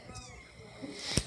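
Newborn kitten giving a short, high meow near the end, close by and fairly clear, with a person's soft voice nearby in the room.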